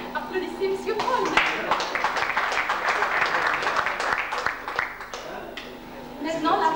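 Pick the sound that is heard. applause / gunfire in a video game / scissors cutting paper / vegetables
applause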